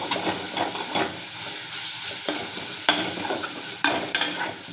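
Chicken pieces sizzle and hiss as they fry in a pan for chicken pickle, with a steady close frying noise broken by a few sharp scrapes and clinks from stirring.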